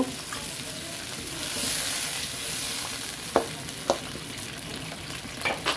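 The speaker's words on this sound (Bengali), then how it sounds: "আমি এই কারণে পেঁয়াজ ভালো করে কষিয়ে নিব।" Onions for a desi (country) chicken curry sizzle steadily in a pan, with a few sharp scrapes of a spatula as they are stir-fried; no one speaks.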